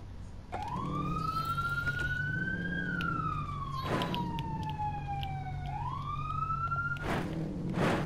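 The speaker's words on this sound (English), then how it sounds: "I'm gonna ride in the police car." A wailing police car siren in Call of Duty Black Ops 4 Blackout, rising and falling in slow sweeps, loud and close over a steady engine hum, with short bursts of noise breaking in.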